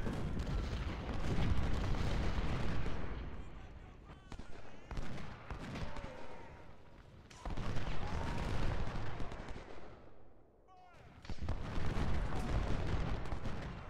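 Artillery fire in the Civil War strategy game Ultimate General: Civil War, with a naval battle against an enemy ironclad, rumbles as heavy, overlapping cannon booms and crackling volleys in dense waves, with brief quieter lulls between barrages.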